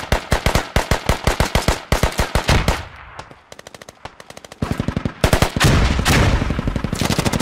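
Humvee-mounted machine gun firing in the military shooter game SQUAD, loud rapid bursts of automatic fire with short pauses between volleys, close and dominant.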